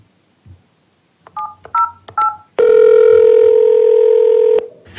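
Telephone keypad tones beep in a quick series of four short dual-tone presses, then a loud steady dial tone holds for about two seconds before cutting off, heard before a school district teacher appreciation hotline call connects.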